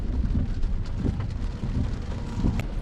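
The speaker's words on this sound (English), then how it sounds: "A pouring rain on the West Virginia Turnpike is never fun." Heavy pouring rain drums on a vehicle travelling the West Virginia Turnpike, a dense steady wash of broadband noise with a low rumble of wind and road underneath and no voices.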